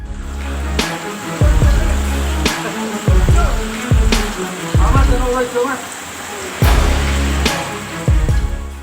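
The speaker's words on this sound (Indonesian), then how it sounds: "hujan yang terus mengguyur menyebabkan banjir meluas ke beberapa wilayah di Kabupaten Jember" Heavy rain pouring during widespread flooding in Jember, Indonesia, a loud, constant hiss broken by repeated low thuds and rumbles.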